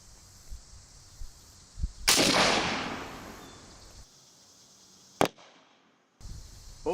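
A 20 gauge shotgun fires Primal slug and buckshot loads outdoors: a loud blast with a long decaying roar, then a second sharp crack a few seconds later, with quiet gaps around them.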